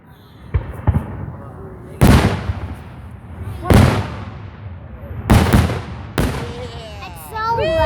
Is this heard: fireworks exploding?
yes